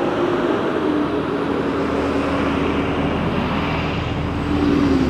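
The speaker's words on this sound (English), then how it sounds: "Vehicles are so loud." Loud, steady roar of New York City traffic rumbles continuously with a faint engine drone running through it, heard up close from the street with no voices.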